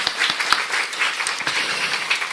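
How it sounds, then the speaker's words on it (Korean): A church congregation claps together during a Sunday service to welcome two visiting missionaries, a dense and sustained applause with a few sharper individual claps standing out near the start. "박수로 환영합니다."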